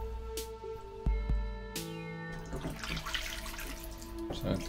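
Tap water runs over a cyanotype print being rinsed, a close splashing flow that starts and stops in bursts and then settles into a steadier trickle, with faint tonal clinks and no voices.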